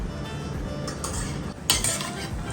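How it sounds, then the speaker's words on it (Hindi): Cashews tumble into a hot pan after almonds for post-pregnancy panjeeri, then are stirred as they roast, giving close clinks of a metal spoon against the pan over a soft background hiss. "अब हम लोग भूनेंगे काजू। तो यहाँ पे डाल रहे हैं हम लोग काजू"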